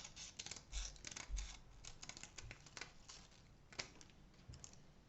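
Scissors trim around a smaller paper poinsettia petal, giving faint, close, irregular snips and light paper scratching with a few soft handling bumps.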